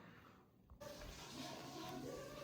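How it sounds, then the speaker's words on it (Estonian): Shower water runs steadily in a home bathroom, a continuous broadband hiss that starts abruptly and stays fairly even, heard from a short distance with no talking. "Kuulake, Herman on duši all."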